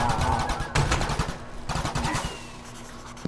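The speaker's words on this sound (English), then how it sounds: "we're absolutely murdering this fool with this minigun" Minigun in the Crazy Craft Minecraft video game firing in rapid rattling bursts, two fast strings of shots separated by a short gap, moderately quiet in the mix.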